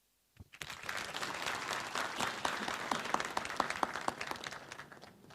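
Graduation ceremony audience for a National Defence College course breaks into sustained applause, many hands clapping together, dense and steady after a brief silent start, with no talking.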